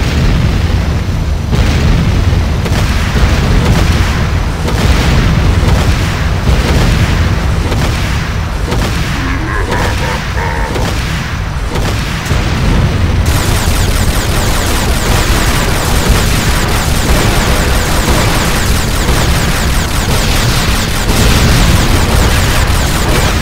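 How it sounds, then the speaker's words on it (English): Dense, continuous booms and bursting blasts roll through a loud, unbroken stretch as structures are destroyed in the multiplayer shooter Renegade, the rumble thick and steady with rapid crackling detonations layered over it. "GDI Tiberium refinery destroyed"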